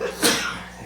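One short sneeze sounds during a town selectboard meeting, moderately loud against a steady roomy background hiss.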